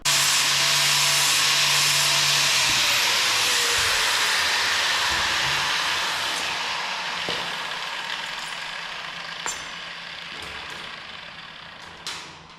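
A link being welded onto a bracket of a Ford 7000 row crop tractor: a steady, close crackling hiss that gradually softens after the first half, with a few sharp clicks near the end.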